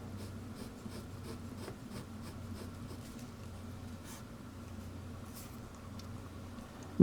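Extra fine nib of a Hongdian 1861 Black Forest Pro fountain pen scratching steadily across paper, a continuous soft scritching with small stroke accents, close and quiet over a low room hum.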